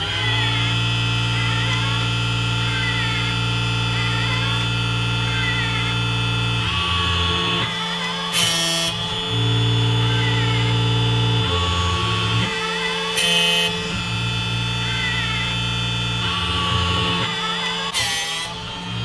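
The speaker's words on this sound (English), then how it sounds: "The machine will automatically advance 5 cutters past the sensor to determine right and left orientation, and then begin sharpening." An automatic chainsaw cutter sharpening machine runs with a steady mechanical hum and tonal whine, interrupted by periodic bursts of grinding as it works through the cutters.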